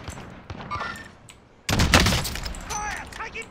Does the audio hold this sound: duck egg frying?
no